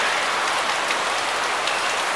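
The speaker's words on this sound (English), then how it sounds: "There's a lot of rain." Steady, dense rain falling at Hope Zoo in Kingston, Jamaica, a continuous close hiss of drops on surfaces with no talk.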